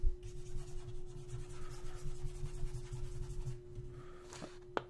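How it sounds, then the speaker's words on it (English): Pencil writing erased from paper with a rubber eraser, a close, continuous scratchy rubbing in quick back-and-forth strokes over a steady electrical hum, ending with a faint tap. "Got to erase."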